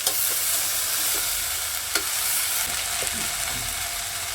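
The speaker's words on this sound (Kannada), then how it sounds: "ಈಗ ಸ್ವಲ್ಪ ಎಣ್ಣೆಲಿ ಫ್ರೈ ಆಗಲಿ." Curry sizzles steadily as it fries in oil in a pan, a continuous close hiss with occasional soft clicks of stirring.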